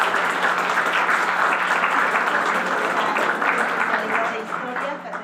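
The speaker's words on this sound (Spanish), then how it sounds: "Le vamos a dar un fuerte aplauso a la maestra." An audience applauds a teacher, sustained dense clapping from a sizeable crowd for about five seconds that thins slightly toward the end.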